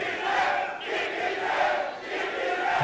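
A wrestling crowd shouts and roars in a sustained, loud wave of voices, swelling and dipping slightly without a break.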